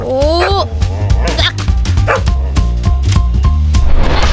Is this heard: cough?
no